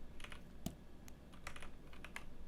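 Several crisp computer keyboard keypresses, including a Shift+A shortcut, tapped in a Blender 3D modeling session, spaced irregularly and fairly quiet over faint room hum.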